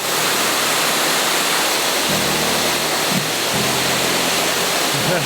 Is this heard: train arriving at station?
no